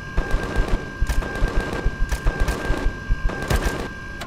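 A turret in Empyrion Galactic Survival shoots at a slug creature, firing a loud, rapid, evenly paced string of mechanical shots over a steady electronic whine.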